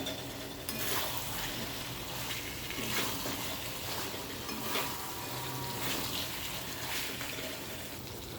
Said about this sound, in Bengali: ভালো করে নেড়ে নিয়েছি, কষে নিয়েছি আলুগুলো দিয়ে